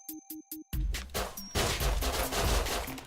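P250 pistol fire in the game Rust: a few sharp separate shots open the moment, followed by a dense, loud, continuous barrage of overlapping gunfire and impacts, close up and without talk.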